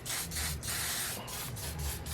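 An olive oil nourishing sheen spray is pumped onto natural hair in a rapid series of short hissing bursts, close and fairly loud, with no voices.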